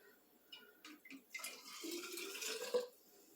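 Ham broth pours into Ball jars in a short, faint liquid stream with light dripping and trickling, starting with a few small splashes and then running steadily before it stops.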